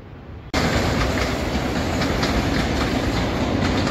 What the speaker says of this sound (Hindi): या आई थिंक मेट्रो का ट्रायल रन हो रहा है